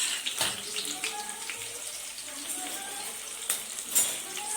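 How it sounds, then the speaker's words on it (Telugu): Onion frying in hot oil gives a soft, continuous hiss and fine crackle at moderate-low level, with a few brief clinks and handling knocks scattered through. "ఆయిల్ వేడెక్కింది. ఇందులో ఉల్లిగడ్డ వేసుకుంటున్నాను."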